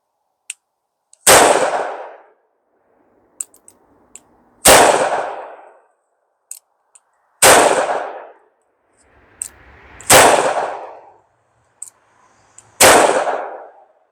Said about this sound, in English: let's put 5 more downrange. Standing, just go offhand. We're going to use that same grip, shoot double action.